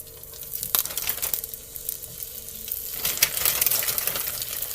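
Frozen chicken potstickers fry in a hot skillet with a bright, crackling sizzle, up close, broken by sharp pops and spatters that grow busier toward the end, with no voices.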